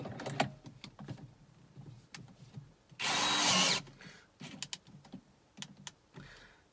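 In a shed, a power drill set up on a stand whirs loudly for under a second, surrounded by close clicks, knocks and handling noises as the tool and a heavy, thick cable are adjusted.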